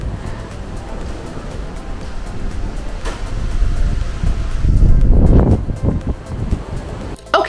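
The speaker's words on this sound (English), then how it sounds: "so you don't have to listen to the insane wind noise" Strong wind blasts across the open deck of the Norwegian Joy cruise ship in rough seas, buffeting the microphone with a loud, constant low roar that swells midway and gusts unevenly.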